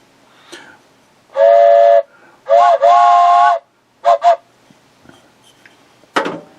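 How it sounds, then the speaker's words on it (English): Bright, loud train whistle blasts: one long tone, then a long two-part blast, then two short toots, with quiet gaps between them and a short sharp noise at the end. "Then he says train whistle."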